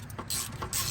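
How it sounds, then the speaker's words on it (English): Nuts being removed from the vacuum pipe of a Mazda RX-8, a quick burst of ratcheting clicks in two short runs, close up and brief. "In this case, we're just removing some nuts here."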